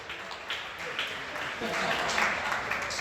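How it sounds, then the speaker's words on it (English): An audience at a hall of fame awards ceremony applauds steadily, clapping that rises slightly and holds for a few seconds under crowd noise and a voice. "can we get a round of applause for the mighty, mighty Easy Zone, Big Gary"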